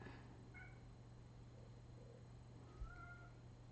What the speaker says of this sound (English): Here, another kitty cat.